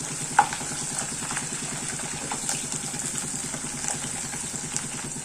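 Chopped green chilies stirred in a pan for gooseberry pickle give a continuous low sizzle with faint spoon scrapes, alongside a steady rumbling hum throughout, with no talking.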